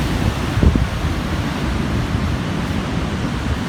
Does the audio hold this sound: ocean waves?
yes